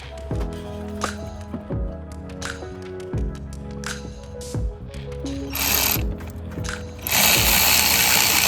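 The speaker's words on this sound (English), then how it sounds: "I like to start by hand tightening them, then come back with my cordless ratchet." Cordless ratchet tightening 14mm starter bolts on an Infiniti QX56, with rhythmic metallic clicks and knocks, then louder buzzing bursts of the motor toward the end.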